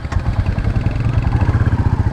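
A Royal Enfield Bullet 350 motorcycle engine thumps at idle with a loud, close, even pulsing beat and a slight mechanical clatter, steady throughout with no one talking.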